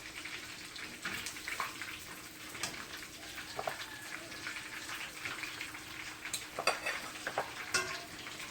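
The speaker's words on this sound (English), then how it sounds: "after about 30 minutes of frying, I'm going to remove my first set of chicken." Chicken pieces frying in a pot of hot oil hiss and crackle softly, with irregular pops and spatters scattered through a quiet background.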